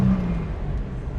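A 1967 Jaguar Mark II 340 with a 4-speed gearbox accelerating through the gears, a brief steady engine drone heard from inside the car.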